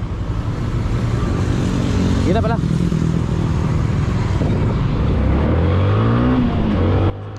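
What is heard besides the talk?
heavy road traffic with cars and motorcycles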